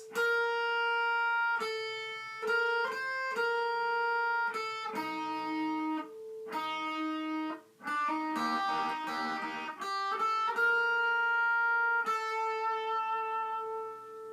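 An electric guitar plays a melodic single-note line from a battle theme of Pokémon Omega Ruby/Alpha Sapphire, picked steadily at close range with a brief pause midway.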